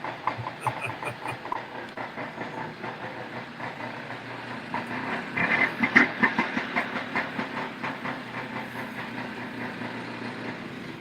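A vintage snowmobile engine idles and runs steadily, a busy mechanical chatter with rapid rhythmic pulses and some hiss that swells in the second half, close and fairly loud with no talk.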